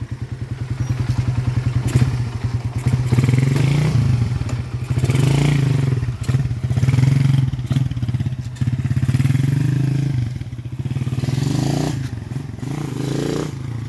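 A motorcycle engine fitted with a 28mm Keihin carburetor runs close and loud through a bike test, its steady low idle punctuated by revs, clatter and occasional thumps, with no talk over it.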